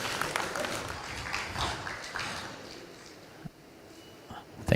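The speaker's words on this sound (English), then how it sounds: "A round of applause, please." An audience at a Tanzania–Uganda investment and business forum gives a round of applause, steady clapping that fades toward the end before a brief thump.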